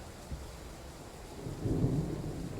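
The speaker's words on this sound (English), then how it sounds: "And you can hear that thunder." A low, distant rumble of thunder in Train Sim World 3 swells over steady background noise and rain on the Glossop line, rolling for about a second.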